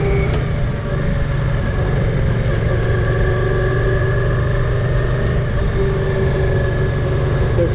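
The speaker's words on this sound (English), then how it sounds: "So first impressions of the Virago is it's running quite nicely." A Yamaha XV535 Virago motorcycle's V-twin engine runs steadily and loudly close by, with a constant low rumble and smooth idle-like hum for several seconds and no voices.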